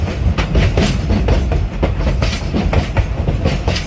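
Rhythmic clickety-clack of the Durango scenic train's wheels over rail joints, close and steady, with a rumbling low undertone and no voices.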